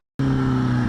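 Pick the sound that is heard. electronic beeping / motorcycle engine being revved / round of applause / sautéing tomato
motorcycle engine being revved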